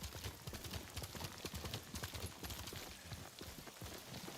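Horse hooves in Ghost of Tsushima, a steady galloping clip-clop rhythm, close and continuous for several seconds over faint game ambience.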